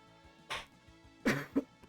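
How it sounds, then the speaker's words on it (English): A man coughs a few times, with two short harsh bursts about a second apart and a smaller one after, fairly close and loud over a quiet background with no talk. "Sorry for the cough."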